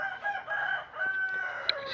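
A Chantecler rooster crows nearby, a drawn-out cock-a-doodle-doo with a second call following, against faint background noise.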